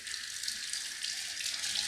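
Tap water runs steadily into a sink while a hair clipper attachment from a Remington HC4250 self-haircut kit is rinsed, a constant soft hiss with no speech.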